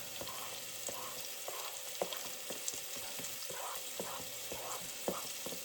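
Carrot and onion sizzle and fry steadily in a pan, with occasional light scraping and stirring taps, close up with no talking.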